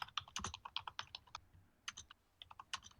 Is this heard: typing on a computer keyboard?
yes